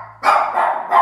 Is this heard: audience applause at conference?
no